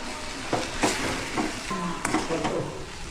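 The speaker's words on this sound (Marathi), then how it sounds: "त्याच्यात सुकट टाकतो. थोडंसं परतून घेते." Washed dried fish (sukat) sautéing in a pan, dense sizzling with a few stirring knocks and scrapes, close and fairly loud, with no talk over it.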